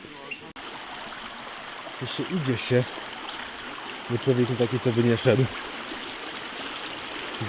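A stream in Perth, Australia burbles steadily in the background while someone talks over it in short Polish phrases.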